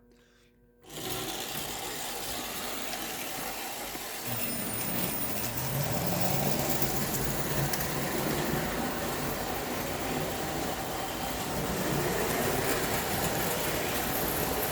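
A model light rail car in 1920s style, driven by an extended-axle O-gauge Alco Lionel motor, starts up and runs with a steady, faint mechanical whir and hum that grows slightly and continues evenly, with no talk.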